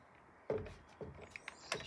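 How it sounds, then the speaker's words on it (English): A Dyson V7 cordless vacuum's dust bin is opened and emptied, giving a few quiet plastic clicks, thumps and rustles spaced over a couple of seconds. "Time to empty out the Dyson."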